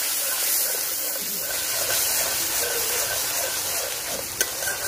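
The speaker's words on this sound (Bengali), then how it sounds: "মশলাটা ভালোভাবে কষায় নিব।" Spices for mango rui fish fry in hot oil and are stirred, giving a steady bright sizzle and hiss throughout. There are soft scraping stirs and one sharp clink near the end.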